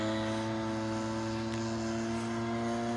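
A Great Planes Giant Avistar 30cc model airplane drones steadily in flight, its small petrol engine giving a constant buzzing tone with strong harmonics, fairly faint and without talk.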